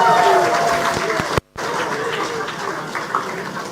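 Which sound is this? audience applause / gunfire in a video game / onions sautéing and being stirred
audience applause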